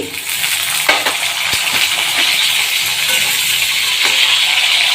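Green chillies go into hot oil in a home kitchen while greens are being prepared, giving a steady, close hiss of frying with a few faint clinks of utensils against the pan; no one speaks.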